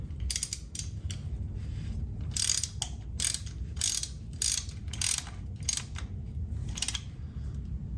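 Ratchet wrench tightening the differential cover bolts on a 1974 Ford F350 Dana 70 axle, heard as bursts of rapid metallic clicking separated by short pauses, close up and without speech.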